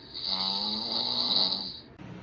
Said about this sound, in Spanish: El audio que acabo de enseñarles soy yo roncando